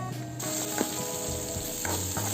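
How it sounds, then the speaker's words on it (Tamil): Onion, green chilli and curry leaves sauté in a hot pan with a steady close sizzle and a few soft stirring scrapes, no voices. "இதை நல்லா 1 நிமிஷம் அளவுக்கு நல்லா வதக்கிடலாம்"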